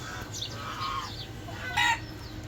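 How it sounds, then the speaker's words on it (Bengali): Silkie chickens clucking on a rooftop where greens are planted, a few short clucks and crowing-like calls close by, with one louder burst near the end over steady background hum. "দেখছেন আমার সিল্কি মুরগিগুলো"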